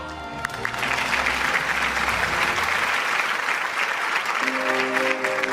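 An award-show audience breaks into loud, sustained applause welcoming a singer to the stage, a dense crowd of clapping hands holding steady, with faint music tones at the start and end.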